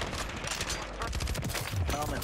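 Rapid SMG bursts in Call of Duty Warzone on Rebirth Island, a dense, loud stream of gunfire filling the short moment with no talk over it.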